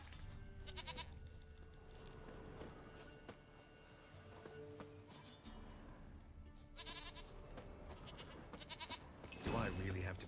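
A goat bleats a few times in The Witcher 3, scattered calls against game ambience with footstep-like clatter, and a louder burst of noise near the end.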